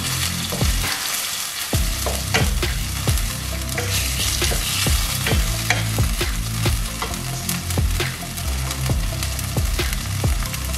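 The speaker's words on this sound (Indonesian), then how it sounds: "Aduk dulu." Tomato sauce sizzling and frying in a pan while being stirred with a utensil, steady loud crackle with repeated scraping and knocking strokes against the pan, close and continuous with no talk.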